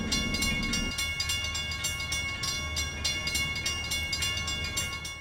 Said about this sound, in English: Which for some reason causes a railroad train to, or a train to appear, killing the monster for no discernible reason.